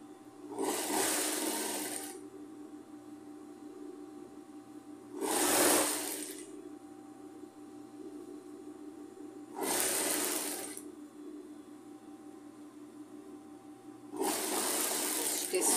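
Four bursts of a sewing machine stitching fabric strips for a rag rug, the motor whirring at a steady hum between pauses, heard up close.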